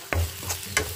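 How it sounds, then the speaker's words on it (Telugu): A spoon stirs chili powder through fish curry gravy in a pan, giving two or three brief scraping strokes over a faint, steady simmer. "కారం తిప్పేసుకున్నాం."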